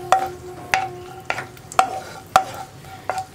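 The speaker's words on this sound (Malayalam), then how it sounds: "കാഷ്യൂനട്ട് ഒന്ന് ചൂടായി തുടങ്ങുന്നുണ്ട്. നമുക്ക് ഇതിലേക്ക് കുറച്ച് റൈസിൻസും കൂടി ഇട്ട് കൊടുക്കാം" Cashew nuts and raisins fry in a hot pan while a spoon stirs them, giving sharp scraping clinks roughly every half second over a soft background sizzle, close and alone.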